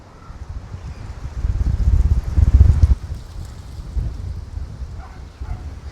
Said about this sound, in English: The wind is absolutely picking up. It's full on.